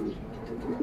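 A short, low racing pigeon coo, soft and close, over a faint rumbling background.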